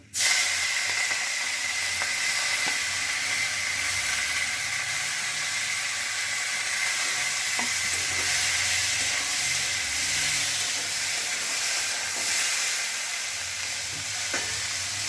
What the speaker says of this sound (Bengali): আর ওই তেলে আমি কিন্তু চিংড়ি মাছটা ভেজে নেব।